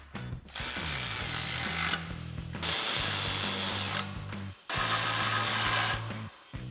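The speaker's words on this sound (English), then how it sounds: "grab our 6mm Allen socket on our ratchet and tighten these down" A powered ratchet with a 6mm Allen socket tightens bolts on a Jeep Wrangler JL RedRock Extreme HD rear bumper, in three close, loud bursts of buzzing, whining rotation separated by short pauses.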